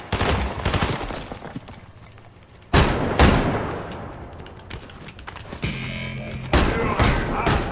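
Gunfire in Fortnite, a rapid fusillade of loud close shots in bursts, with a pause before more heavy volleys and booms and a rattling stretch late in the clip.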